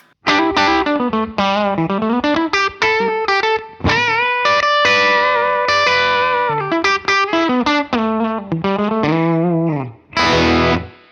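Overdriven electric guitar with two Seymour Duncan 59 humbucker pickups plays a lively melodic phrase with bends and sustained notes, loud and close, then a brief final strum.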